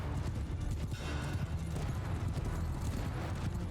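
Cavalry horse hooves in Mount & Blade II: Bannerlord, a dense, continuous rumble of many galloping hooves blended with battle noise, steady and fairly distant throughout.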